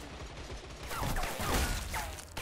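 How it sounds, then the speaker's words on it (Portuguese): Bursts of rapid gunfire from an online multiplayer shooter game, a dense fusillade of overlapping shots rising mid-clip with no one talking. "tiro comendo aqui"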